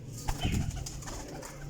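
A high-class golden pigeon and others at a pigeon point give soft, faint cooing close by, a brief low murmur with no talk.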